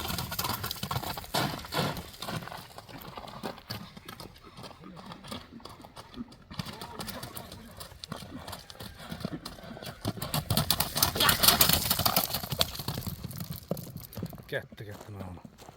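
Horses at a livestock horse market walk and shift nearby, hooves clopping irregularly on the ground amid crowd chatter and people talking, with busy activity throughout.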